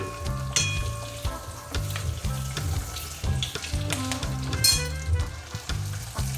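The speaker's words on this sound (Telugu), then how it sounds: "మనం కొద్దిగా అప్పుడప్పుడు కలుపుకుంటూ ఉండాలండి ఈ స్టఫ్డ్ పచ్చిమిర్చిని" Stuffed green chillies frying in an oil-filled pan, stirred now and then: a steady close sizzle with repeated rhythmic spatula scrapes and clinks, no voices.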